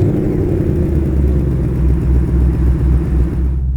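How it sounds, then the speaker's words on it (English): A Ford Mustang Mach 1's engine turns over and settles into a loud, steady low rumble with a pulsing idle throb, close by, with no one talking. "if we start the car"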